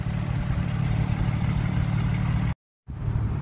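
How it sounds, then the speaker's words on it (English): A BMW S58 3-liter inline-six twin-turbo engine in a 2022 M3 Competition M xDrive idles with a steady, close, low burble, broken once by a brief moment of silence before the rumble resumes. "So this is the S58 3-liter inline six twin turbo, 503 horsepower, 479 foot-pounds of torque."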